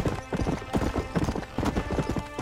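Horse hooves galloping in the video game Red Dead Redemption: a steady, rapid clip-clop of hoofbeats runs loud and close throughout.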